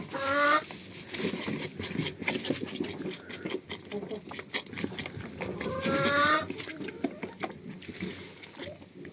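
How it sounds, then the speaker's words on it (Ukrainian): Pig grunts and snorts in bursts, close by, mixed with farmyard clucking and shuffling noise. "куди ж ти на мене порснув і тими вухами, свиньо?"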